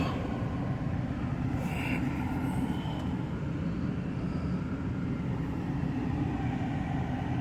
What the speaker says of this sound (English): Obviously the vehicle has to warm up